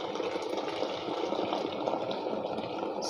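Water pours into a cooking pot of goat meat soup, a steady close gushing splash held for a few seconds without speech.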